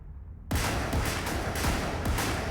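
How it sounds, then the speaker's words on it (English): Gunshots in an Attack on Titan finale scene: a sudden loud burst of repeated shots, roughly every half second, sharp cracks over a sustained rumble of battle noise. "Gunshots?"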